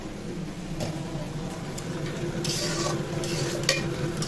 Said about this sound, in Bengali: মাংসটা গরম করব। এটা একটু ভাজা ভাজা টাইপের করে ফেলবো।